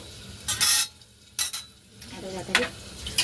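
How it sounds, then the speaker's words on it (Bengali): Potatoes frying in a pan on a home stove, a low sizzle broken by a few sharp, loud bursts of utensil scraping and clatter up close, with quieter stretches in between and no voices. "একদিকে হচ্ছে আলু ভাজতে দিয়েছে"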